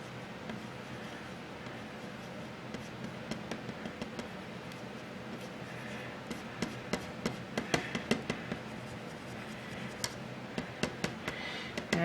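Platinum silicone paint being stirred in a cup: light, irregular ticks and scrapes close by, sparse at first, then growing denser and sharper toward the end, with no talking.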